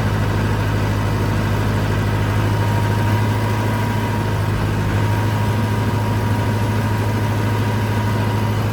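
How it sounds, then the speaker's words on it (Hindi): A tractor engine idles steadily at 1600 rpm while set up for rotavator work, a constant low drone with a firm hum that stays level and close throughout, with no voices over it. "आप देख सकते हो बिल्कुल 1600 आरपीएम पे ट्रैक्टर सेट है।"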